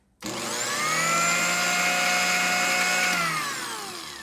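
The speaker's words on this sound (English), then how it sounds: "And now we can blend it up" A blender whirs through a salt de-icer mixture, starting abruptly with a loud, steady high-pitched motor whine that holds, then drops slightly in pitch and fades a little toward the end.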